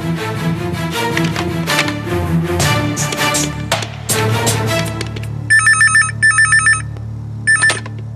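A telephone rings inside a home during a Tamil TV serial scene, electronic ring bursts arriving in three short groups near the end over a bed of background music.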